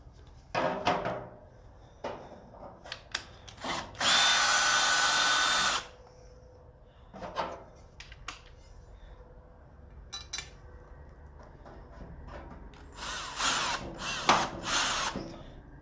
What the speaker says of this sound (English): It's recommended to remove these screws one at a time.